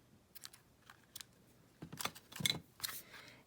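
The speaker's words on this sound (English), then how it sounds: "And trim it with my snips." Small snips trim the ends of a tied ribbon bow, a quick series of faint close clicks and snips that cluster more densely toward the end, quiet with no talking.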